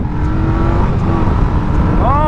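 A 2025 Indian Scout 101 cruiser motorcycle pulls hard in a second gear roll-on, a loud, close, steady engine drone rising in pitch, with strong wind rush and a voice talking over it.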